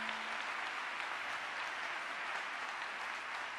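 Steady applause from a large church congregation, a continuous wash of clapping that holds evenly from start to finish.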